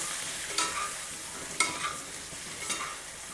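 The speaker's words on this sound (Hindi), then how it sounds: "और बस इन टिंडों को हम फ्राई कर लेंगे।" Tinda gourds dusted with turmeric fry in a pan with a soft, continuous sizzle, broken by three distinct stirring scrapes spaced about a second apart.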